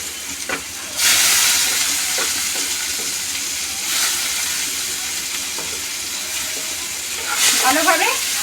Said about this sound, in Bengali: ভালোভাবে এটা তেলের সঙ্গে মেশাতে হবে আর একটু লাল লাল করে ভাজতে হবে